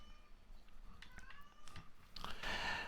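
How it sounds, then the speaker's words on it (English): A cat meows somewhere in the background of a quiet room, faint and brief, ending in a louder, rougher burst of sound near the end. "I hear him meowing in the background"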